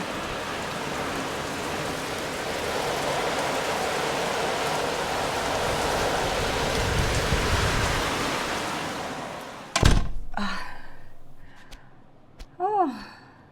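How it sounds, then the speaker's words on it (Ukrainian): Heavy rain pours in a steady, dense roar for several seconds, then cuts off abruptly to quieter surroundings where a voice speaks briefly. "злива,"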